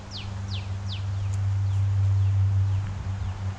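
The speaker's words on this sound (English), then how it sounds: "The birds are singing." Birds sing outdoors near a tree on a fine day, several quick descending chirps repeating at a steady rhythm, fairly faint over a constant low hum.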